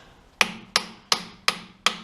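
A brass hammer strikes a metal part on a Kubota tractor five times in an even rhythm, each blow a sharp, close, ringing knock that quickly decays.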